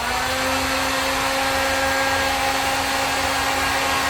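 A heat gun drying a coat of paint on a soda can and milk jug craft: a steady, loud mechanical blowing hum with a constant whine, running without a break and with no voices.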